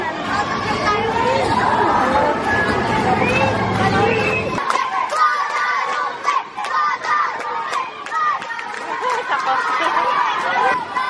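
Noisy crowd chatter fills a school volleyball game, a loud babble of many voices with excited shouts. The dense low murmur drops away partway through, leaving brighter scattered cries and cheers.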